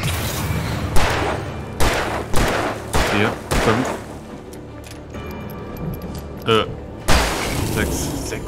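Several sharp, loud gunshot blasts from the video game Alan Wake Remastered ring out at irregular intervals, each followed by a short decay, with quieter moments between.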